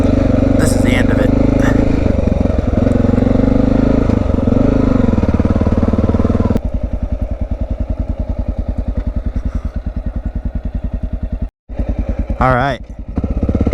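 A Honda XR650L dual-sport motorcycle rides a loose, rutted dirt trail in the Blue Mountains, its single-cylinder engine loud and close with a steady thumping putter, shifting pitch as it slows, while a rider speaks briefly.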